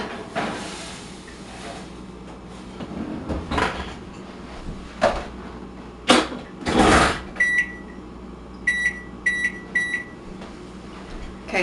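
An oven timer is set for baking brookies: a few knocks and clatters, then a run of short, bright electronic beeps in quick clusters, close and clear, with no talking.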